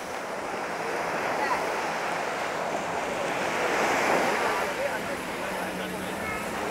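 Waves wash steadily onto Surin Beach, a broad continuous surf rush mixed with wind noise on the microphone, with no clear pauses between breakers.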